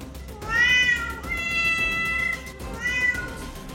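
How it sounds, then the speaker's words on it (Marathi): Several of the roughly 350 pet cats kept in a Pune 3 BHK flat meow loudly from a gallery, two long wailing calls with a brief overlapping cry between, close and clear with no talk. "या मांजरी घरभर फिरत गॅलरीत येऊन जोरजोरात ओरडतायत"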